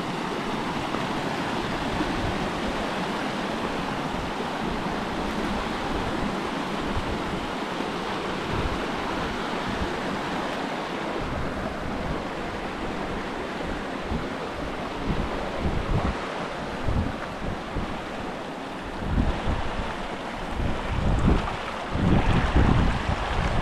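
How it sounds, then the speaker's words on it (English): Waves and flowing water wash steadily along a Caribbean island shore, with wind buffeting the microphone throughout and some louder surges toward the end; no one speaks. "The good sounds of the water"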